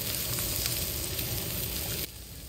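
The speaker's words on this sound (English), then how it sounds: "I threw some burgers right on the open fire." Burgers sizzle steadily on an open campfire at a campground, a dense, continuous frying hiss that stays loud and close throughout and drops slightly near the end, with no talking.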